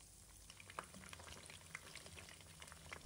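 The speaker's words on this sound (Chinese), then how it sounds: "炸到底部金黄色" Pork neck deep-frying in oil over medium-low heat, giving a steady, busy crackle and sizzle with scattered sharper pops throughout, fairly quiet and with no talk.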